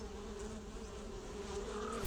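Bees buzz steadily inside a survival video game, a dense continuous insect drone holding at an even, moderate level throughout with no voices.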